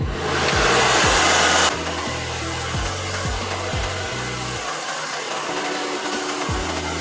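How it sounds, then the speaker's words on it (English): A wig-styling hair dryer blows loudly and steadily nearby, its motor roaring continuously, briefly louder at the start before settling to a constant whir. "you're going to turn on your blow dryer"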